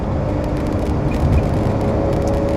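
A Ferrari 360 cruises on the road, driven from North Devon to Magny-Cours in France, its engine and road noise a steady close drone with no breaks across the stretch.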